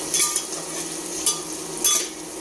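Cut potato pieces tipped into hot oil in a pan, crackling with a steady sizzle, with a few scrapes and clinks of stirring on top.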